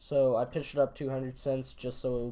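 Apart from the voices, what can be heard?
No everyday noise stands out behind the speech.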